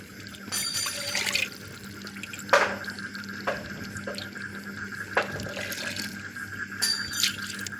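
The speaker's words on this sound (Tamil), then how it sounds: "அந்த வடச்சட்டியை வந்து அலசி ஊற்றி தண்ணி ஊற்றிக்கலாம்." Water splashing and pouring in short bursts, a cooking pan being rinsed near a sink, with intermittent clatter and running water.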